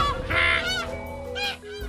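Cartoon geese honk repeatedly in flight, a loud, nasal series of calls in quick succession with no talking.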